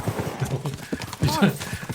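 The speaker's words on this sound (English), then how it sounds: "We should spur the horses on." Horses clip-clopping at a gallop in the medieval game Kingdom Come Deliverance 2, quick hoofbeats running under someone talking and shouting.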